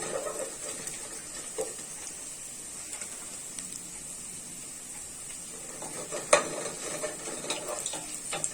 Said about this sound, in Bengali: আদা বাটা, রসুন বাটা দিয়ে জাস্ট একটু নেড়ে চেড়ে নিচ্ছি